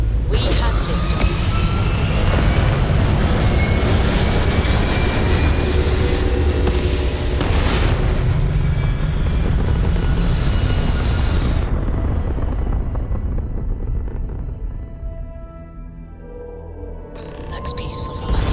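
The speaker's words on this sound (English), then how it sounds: "We have liftoff." Rocket liftoff: a loud, sustained broadband roar that holds steady for several seconds, then gradually thins and fades as the vehicle recedes, with a voice speaking over the start.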